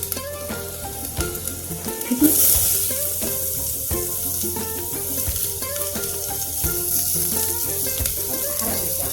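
Garlic frying in oil spiced with asafoetida while cooking whole moong curry, a continuous close sizzle with light stirring clatter, a brief louder burst early on, and a short spoken word over the top.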